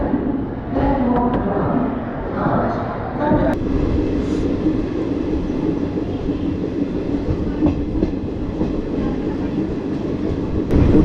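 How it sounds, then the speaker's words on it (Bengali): The 12312 Kalka–Howrah Netaji Express passenger train rumbles along steadily and close, a continuous low roar with faint rhythmic wheel clatter. Brief voices are heard near the start. "আমাদের train one two three one two কালকা টু হাওড়া নেতাজি এক্সপ্রেস"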